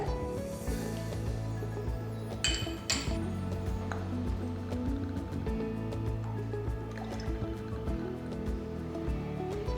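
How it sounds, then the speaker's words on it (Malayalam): Hot milk pours and gurgles into melted butter in a container for tea cake batter, with small drips and a couple of light clinks, close by, over a low steady hum. "ഇതിനകത്ത് ഒഴിക്കുമ്പോൾ എപ്പോഴും നല്ല ചൂടുപാൽ ഒഴിക്കുക"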